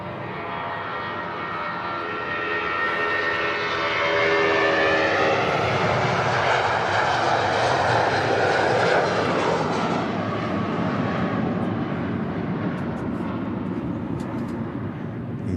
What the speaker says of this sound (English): Here we go, Jet2 75 heading out